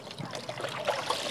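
Water poured over a Labrador dog to rinse off shampoo during a bath, a soft, faint trickle and splash lasting a brief moment.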